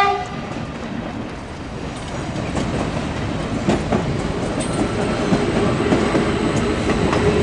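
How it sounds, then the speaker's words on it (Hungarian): Hungarian Szob zone express train rushing through a station without stopping near Rákosrendező, a loud continuous roar of rolling wagons with rhythmic wheel clatter, close and building steadily. "A szobi zónázó, ami ugye itt nem áll meg."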